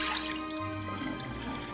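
Running tap water splashes steadily into a bowl of rice being rinsed during washing, a continuous close watery rush with faint drips and no voices.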